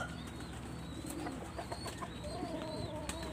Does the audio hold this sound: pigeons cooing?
yes